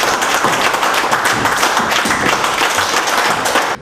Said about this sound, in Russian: По окончании спектакля зрители аплодируют стоя.